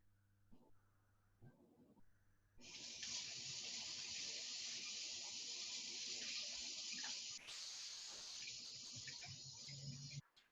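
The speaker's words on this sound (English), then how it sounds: "I'm gonna go ahead and rinse off my hands" Tap water runs loud and steady into a sink as hands are rinsed in a kitchen during a short rib and crab cake cooking demo, a continuous close splashing rush that stops abruptly after several seconds.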